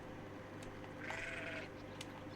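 Sheep bleat in a Medieval Dynasty village, one clear drawn-out bleat rising over quiet outdoor ambience, with a few faint clicks around it.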